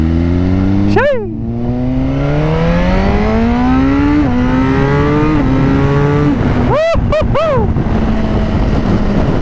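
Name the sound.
Suzuki Gixxer motorcycle downshifting with auto blipper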